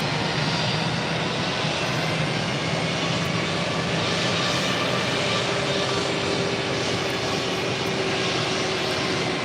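A heavy jet airliner taxis at JFK airport, its engines giving a loud, continuous roar and whine that holds steady throughout with no speech over it.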